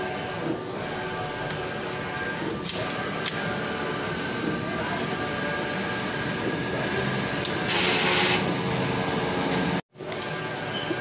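A Mutoh sublimation inkjet printer runs a head cleaning cycle, a steady mechanical whirring hum, with a brief louder rushing burst near the end followed by a sudden short cutoff.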